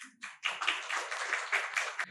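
Scattered applause from a small audience at an energy industry forum as a speaker walks up, distinct individual claps close by, fairly quiet and irregular.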